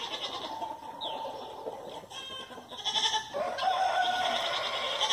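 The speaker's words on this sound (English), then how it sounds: "I'm working on weaning some goats and they're not real happy about it." Goats being weaned bleat loudly, with several overlapping calls rising and falling over a farmyard background, a rooster-like cry mixed in, and no talk.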